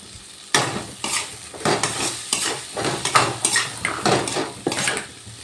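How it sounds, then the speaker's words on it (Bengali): Fried potatoes being stirred and sautéed with spices in a pan, a spoon scraping and clanking against the metal in irregular strokes over a soft sizzle, close and fairly loud with no talking. "এবার আমি যে আলুগুলো ভেজে রেখেছিলাম আলুগুলো দিয়ে দিলাম। আলুগুলো দিয়ে আবার ভালো করে কষিয়ে নেব।"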